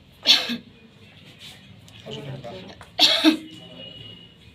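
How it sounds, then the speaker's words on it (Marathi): Two sharp, forceful coughs from a patient in a clinic come a few seconds apart, with a person speaking briefly between them. "खोकला करून टाका"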